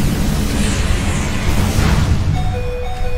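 Fiery Flare Blitz attack effect from a Pokémon battle game: one sustained, loud, roaring blast of crackling noise that holds steady for about three seconds and then settles slightly at the end.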